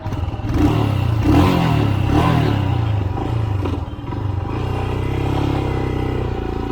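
A 2021 Royal Enfield Himalayan motorcycle engine thumps nearby at idle, blips up in a couple of quick revs, then drops back to a steady, loud, throbbing note.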